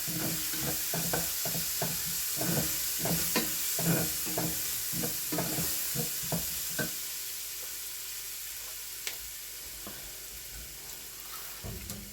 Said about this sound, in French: je vais mettre 2 belles cuillères à café d'ail et de gingembre dans mon huile et dans mes oignons et je vais les mélanger comme il faut